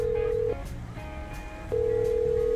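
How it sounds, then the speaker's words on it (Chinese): A cellphone calls a suspect in GTA 5, the steady ringback tone sounding in two long beeps separated by a short gap, over a low background hum. "先打电话给里面的嫌犯"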